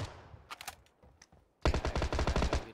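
Mutant rifle firing in the PC version of PUBG: a few scattered shots, a brief pause, then a loud, sustained rapid-fire automatic burst up close.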